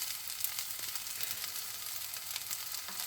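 Pineapple fried rice stir-frying in a hot pan gives a steady, bright sizzle with faint stirring scrapes, close and even throughout, with no talking.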